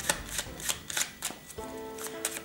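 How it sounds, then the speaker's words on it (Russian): A deck of playing cards is shuffled during a card trick, a series of crisp riffling flutters in quick bursts, close and fairly soft, with a faint tonal hum underneath. "Колоду, естественно, перетасуем."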